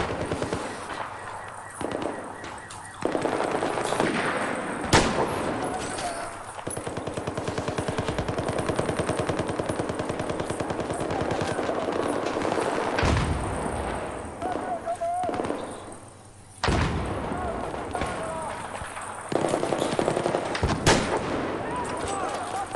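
Rapid gunfire from a Battlefield 4 team deathmatch multiplayer match, loud bursts and single shots crackling almost continuously with brief lulls, under a player's talk.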